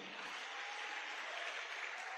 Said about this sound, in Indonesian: Tepuk tangan buat One Vision ya.